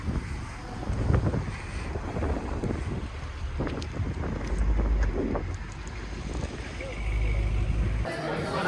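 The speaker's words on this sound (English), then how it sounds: "It's so windy." Strong wind buffets the microphone at a scenic viewpoint in Hawaii, a steady roaring rush with gusts swelling throughout, while voices talk over it.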